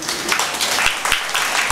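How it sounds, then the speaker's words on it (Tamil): Applause from an audience at the Bharat Kalachar 2019 Margazhi Mahotsav award function, a broad steady wash of many hands clapping with a few sharper claps poking through, moderately loud and continuous with no talk over it. "நீங்கள் உற்சாகமாக கைத்தட்டினால்தான் வேலை நடக்கும்"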